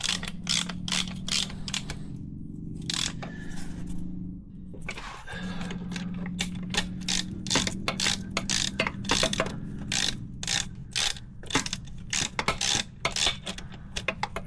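A new axle is worked into a GSR transmission, giving a run of close metallic clicks, taps and ratcheting clanks in irregular bursts over a low steady hum.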